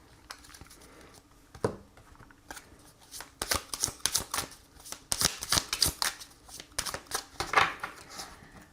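Tarot cards shuffled by hand in a quiet room, a run of crisp riffling and flicking bursts that grow denser and louder toward the end, close up with no talk.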